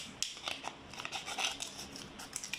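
Scissors snip through clear plastic bottles, cutting them into small pieces: a quick run of close, crisp clicks and crunches in an irregular rhythm, with no talking.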